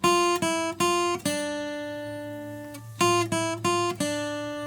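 Closing phrase of a tune picked on a guitar: a few quick plucked notes, a long ringing sustained note, then another short run of plucked notes, played alone and up close.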